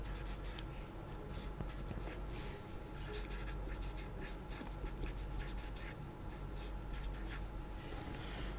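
Pen or marker drawing a graph of a cube-root function by hand, a steady close scratching and rubbing of the tip on paper with short strokes throughout, no speech.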